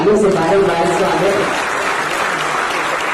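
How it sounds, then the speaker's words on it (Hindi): Loud, dense applause from a live talk show audience welcoming actor Annu Kapoor in Rajasthan, with a voice speaking over the clapping at the start before the applause carries on alone. "प्यार भरी मुस्कुराहट और जोरदार तालियों से बारंबार स्वागत।"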